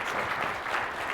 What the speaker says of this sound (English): Folks, big round of applause for Kirk.